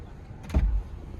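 The boot of a Suzuki Ertiga car opens with a brief latch release and a soft low thump, heard close against a faint background hum.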